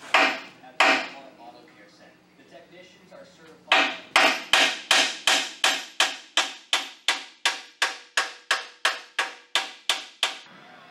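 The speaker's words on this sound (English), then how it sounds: "if I'm taking hammer that right on that weld all the way around, it's gonna smash it down a little bit and loosen that weld up" Hammer blows on a weld on a steel Bronco frame during a diesel conversion: two strikes, then a pause with faint clatter, then a steady fast run of about twenty ringing metallic hits, close and loud.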